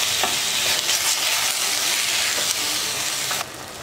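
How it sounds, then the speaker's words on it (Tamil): Chicken frying in a pan of oil for a Sunday chicken fry gives a steady, loud sizzle and hiss throughout, with brief stirring scrapes, easing slightly near the end. "ஒரு 5 நிமிஷம் சிக்கன் வந்து எண்ணெயிலே நல்லா வதங்கணும்"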